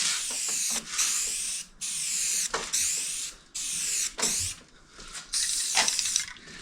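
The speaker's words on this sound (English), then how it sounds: "I go spray it heavy over there" Paint spray gun laying a tack coat onto a 1957 Chevy door, a close, loud hissing spray in several bursts of one to two seconds with short pauses between.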